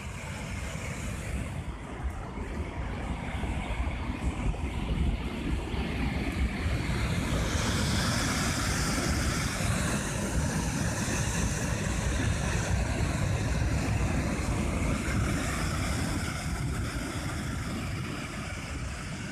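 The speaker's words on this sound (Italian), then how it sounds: "lo riascoltiamo per capire che potenza può avere l'acqua" Powerful floodwater rushes past in a steady, dense roar that stays loud for the whole stretch, with wind buffeting the microphone and no voices.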